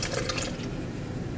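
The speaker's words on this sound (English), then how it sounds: "you're going to use a measuring cup that has been cleaned before, and you're going to fill it with 300 milliliters for 1 roll of film." Film fixer poured into a clean measuring cup for developing one roll of film, a steady liquid fill with a brighter splashy start that settles into a continuous low pour, close and fairly quiet.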